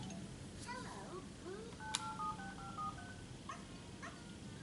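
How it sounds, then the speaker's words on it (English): Toy cell phone switched on, giving a short run of quick electronic beeping tones that step up and down in pitch, faint amid a constant noisy hiss in a room. "We got the toy cell phone."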